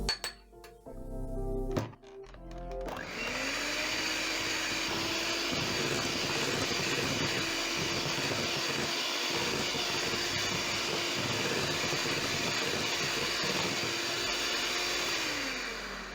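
Buttercream with a teaspoon of milk is beaten by an electric mixer, which starts after a few clinks and knocks and then whirs steadily and close for about thirteen seconds before winding down at the end.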